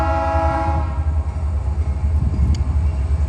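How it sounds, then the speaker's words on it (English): A Norfolk Southern freight train on wet rails sounds a loud, sustained horn blast that cuts off after about a second, followed by the deep, steady rumble and clatter of the passing cars. "So apparently there's another train over there working."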